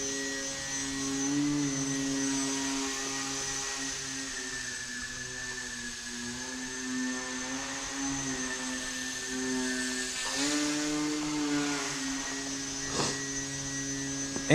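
Indoor RC plane with a slightly bent propeller, a steady droning buzz with shifting pitch that rises and falls as it flies around, fairly quiet and alone without voices.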